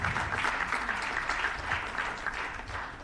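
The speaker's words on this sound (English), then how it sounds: "A big round of applause one more time to all the students who have participated." An audience claps for participating students at a student innovation competition event, sustained and even applause that is moderately loud, with no speech on top.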